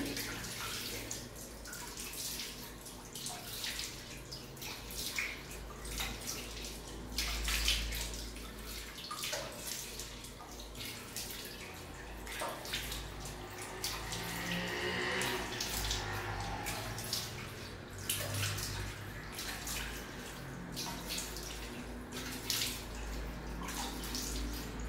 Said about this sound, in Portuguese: Vou enxaguar.